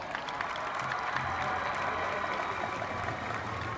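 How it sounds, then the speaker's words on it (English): Steady applause and crowd noise at a high school football game, a moderate, even wash of clapping heard alone from a distance. "let's give her a round of applause"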